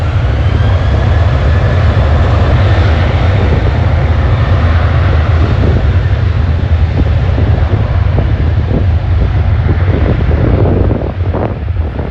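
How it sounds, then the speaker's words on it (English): Boeing 737 airliner passing at Schiphol airport, a steady loud roar heard close, mixed with heavy wind buffeting the microphone for the whole stretch. "There goes the 737."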